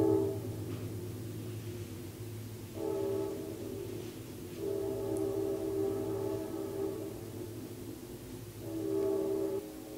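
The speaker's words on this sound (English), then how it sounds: "Did you hear the train?" A passing train sounds its horn in several long, steady blasts over a constant low rumble, moderately distant and without speech.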